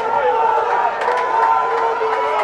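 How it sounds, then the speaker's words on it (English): Raucous rugby crowd cheering and roaring inside a big tin-shed stadium, a dense sustained wall of voices echoing under the metal roof, with a commentator talking over it. "When you're standing at the top of a big tin shed with a raucous crowd"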